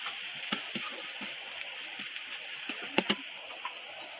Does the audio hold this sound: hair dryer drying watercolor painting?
no